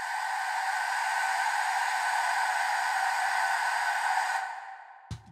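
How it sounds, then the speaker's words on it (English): A blown Aztec death whistle, drenched in added reverb, gives a sustained harsh, noisy shriek with steady loudness for over four seconds, then fades out, ending in a brief thump. "the Aztecs drew a hole through and then blew in it like it's a whistle"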